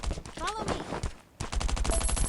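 Rapid bursts of automatic gunfire ring out in the survival video game Last Island of Survival, with a brief pause partway through. Someone talks over the shots.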